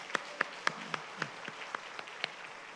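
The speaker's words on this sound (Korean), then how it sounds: "우리 힘내시라 박수로 한 번 더" A church congregation at a Sunday afternoon worship service in Daegu gives a brief round of applause: sparse, separate hand claps in a loose, uneven rhythm, fairly faint and somewhat distant, with no talking.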